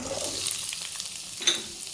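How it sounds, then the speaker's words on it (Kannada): Onion, chillies and tomato sizzle in hot oil in a pan, with a close, continuous frying crackle and a couple of brief sharper spits near the end. "ಆನಿಯನ್, ಈರುಳ್ಳಿ ಹಾಕಿ, ಮತ್ತು ಕಟ್ ಮಾಡಿ ಇಟ್ಕೊಂಡಂತಹ ಮೆಣಸಿನಕಾಯಿ, 1 ಟೊಮ್ಯಾಟೊ, ಇದನ್ನು ಸ್ವಲ್ಪ ಫಸ್ಟು ಫ್ರೈ ಮಾಡ್ಕೊಳ್ಳಿ"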